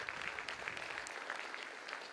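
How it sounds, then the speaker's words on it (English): Faint, steady applause from a crowd at a graduation ceremony, welcoming faculty members, sounding distant and continuous throughout with no voices over it. "You got to put much better clap for them,"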